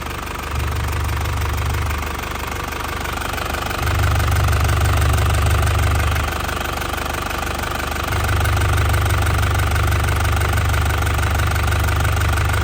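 A warmed-up 2005 Isuzu Panther Grand Touring diesel engine idles steadily with a low, knocking rumble and rhythmic clatter, the deep throb swelling and easing in long stretches.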